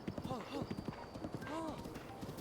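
Horse hooves clip-clop in a quick, steady rhythm from a Breath of the Wild mount. A voice talks over the trotting, which stays moderately close and fairly quiet.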